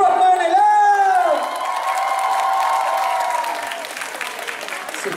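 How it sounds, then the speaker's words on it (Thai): An audience applauds and cheers at an Aeon Thanks Day event in a Bangkapi mall in Bangkok. Dense clapping and whoops build, then fade over several seconds, with an amplified voice calling out over the start. "ขอเสียงปรบมือหน่อยเลย"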